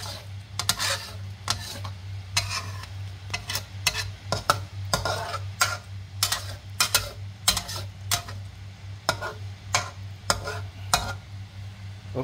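Spicy squid with cut chili is stirred in a pan, a long run of rapid scraping and clattering strokes of a utensil over a low steady hum, with soft frying underneath.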